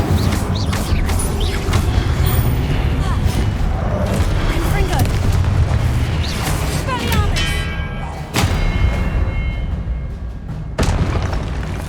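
Confringo and Incendio spells cast in the video game Hogwarts Legacy, booming blasts and fiery bursts layered over a constant, dense wash of game noise, with a voice calling out over the action.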